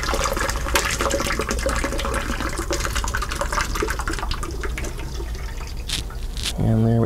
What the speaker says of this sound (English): we're gonna pour it into my sanitized secondary carboy.